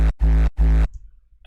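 Layered kick drum tail sample shaped with a dynamic high-shelf EQ, played as three heavy booming hits in quick succession, deep and resonant, each ending abruptly before a short silence.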